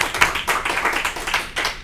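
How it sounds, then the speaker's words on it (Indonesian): Short bursts of hand clapping from a small group on a talk show, uneven and fairly close, rising and falling several times over about two seconds. "Dan tentu saja tepuk tangan buat Sukoria nih ya"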